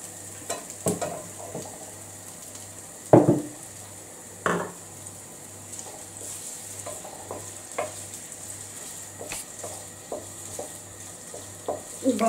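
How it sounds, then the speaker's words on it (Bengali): Paneer pieces fry lightly in oil in a pan, a soft steady sizzle broken by occasional sharp clacks of a utensil stirring and scraping against the pan. "পনিরগুলো আগে আমি তেলে ভেজে নিব,"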